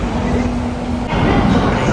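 A Gandhinagar–Ahmedabad metro train pulling away, a steady low hum with a faint tonal whine that shifts into a louder rolling rumble partway through, heard from inside the carriage.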